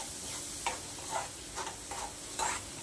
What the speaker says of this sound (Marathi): छान असं तेल सुटेपर्यंत भाजून घ्यायचं